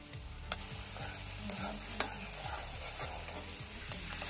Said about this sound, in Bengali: এই যে এগুলো যদি ভাজা হয়ে যায় তখনই ঘিটা রেডি হয়ে যাবে।